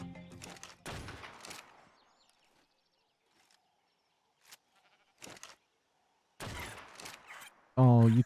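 Gunshots in the survival game ARK Survival Ascended, played on PS5 on the Valguero map: a handful of sharp, isolated shot bursts scattered across the stretch, separated by quiet gaps, with one loud final blast.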